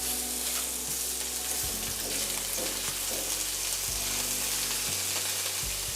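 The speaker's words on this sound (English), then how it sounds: "now that our oil is hot, we're just gonna start adding our shrimp" Shrimp frying in hot olive oil in a pan, a steady close sizzle running unbroken from start to finish with a low hum underneath and no voices.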